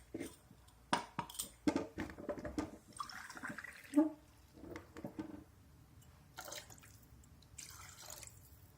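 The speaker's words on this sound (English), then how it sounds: "We'll be taking it and filling it up with water." Water splashes and trickles into a jar in uneven bursts, with gurgles and drips rising in pitch before it settles into softer pouring.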